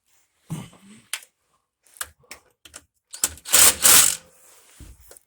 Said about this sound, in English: I just got done tightening all these transmission pan bolts